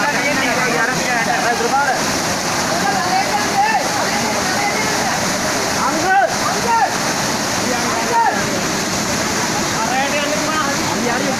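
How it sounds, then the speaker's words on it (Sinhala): Steady, loud rush of turbulent floodwater fills the whole clip, a close continuous roar with splashing, while voices call out over it, during a landslide in Hanwella, Sri Lanka. "වතුර පාර නම් සරයි මල්ලියේ"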